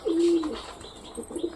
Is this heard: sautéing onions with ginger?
no